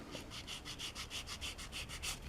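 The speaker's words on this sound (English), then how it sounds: "Get nice and parallel with the coarse sanding stick." A coarse sanding stick rubs back and forth across a small plastic scale-model part, a quiet, close rasping scratch repeating in quick even strokes, about eleven passes, with no voices.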